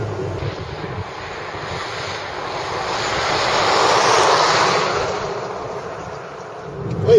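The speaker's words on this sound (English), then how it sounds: "that's road noise, and it's transmitting directly through the wheels" Tire and road noise inside a 2014 Hyundai Accent cabin while driving: a steady, broadband roar that swells louder midway and then eases, with no voices.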